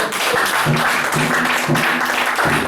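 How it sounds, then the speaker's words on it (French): Loud, dense applause and acclamation from a church congregation praising the Lord, sustained clapping with shouting voices mixed in throughout. "Acclamation pour le Seigneur"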